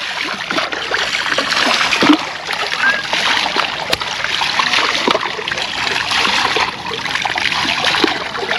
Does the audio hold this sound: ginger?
no